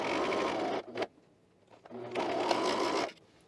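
A domestic sewing machine stitches a sleeve onto a garment in two bursts of fast, steady whirring, stopping briefly between runs, close and clear with no talking.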